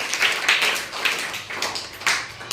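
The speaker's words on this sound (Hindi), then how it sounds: "वेरी गुड, बहुत अच्छे, ताली बजाइए माही के लिए।" Children in a classroom clap for a classmate, a light, scattered patter of hands in uneven bursts rather than a full steady applause, moderately close with no talking.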